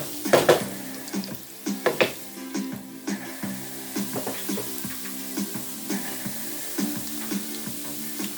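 Fresh onions and garlic going into a pan while a chicken curry and cauliflower stir fry is being cooked, with a couple of loud clatters of utensils against cookware, then a soft sizzle and repeated stirring taps, close by and without talking.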